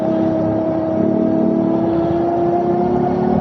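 A Macfox X7 electric bike rides at full throttle through a curve, a steady high electric motor whine holding an even pitch over rushing wind noise, constant and fairly loud, with no talk.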